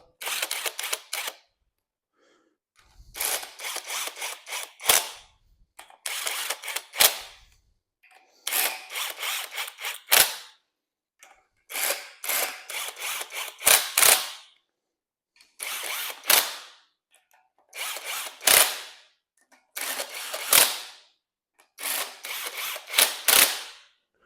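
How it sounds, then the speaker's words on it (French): A pneumatic impact wrench pre-tightening screws on a PSA TU engine during a rebuild, loud close bursts of rapid hammering, about nine short runs separated by brief silences. "je vais faire un tout petit pré-serrage pour enfoncer les vis plus loin à la péteuse"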